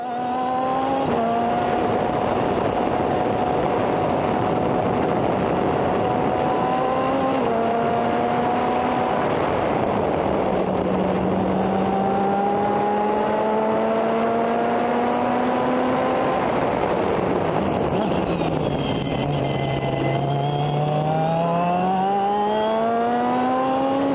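An SCCA race car lapping Laguna Seca, heard from on board as a loud, continuous engine drone that climbs steadily through each gear, drops on downshifts and then rises again, with no talking.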